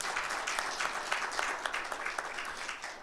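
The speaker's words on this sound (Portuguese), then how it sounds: "Dê um aplauso ao Senhor." Congregation applauding in a church service, a dense, steady wash of many hands clapping throughout, fairly close and even in loudness with no talk over it.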